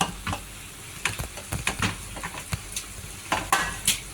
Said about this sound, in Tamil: இங்கே வறுத்து வச்சுருக்கிற சோசேஜு சிக்கனு இதில் வந்து இப்போ நான் ஸ்பேகட்டி ஆட் பண்ணுறேன்.